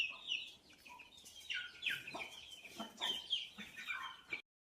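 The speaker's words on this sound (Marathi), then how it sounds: "या ठिकाणी कोंबड्या असतात आतमध्ये." Chickens in a poultry shed, a series of near, irregular clucks and short squawks from several birds, moderately quiet and without talk.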